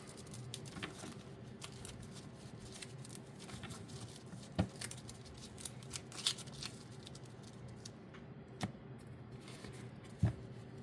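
A deck of Magic: The Gathering cards is shuffled close by, with quiet riffling patter and soft scraping punctuated by a few sharp taps and clicks, faint and without talk.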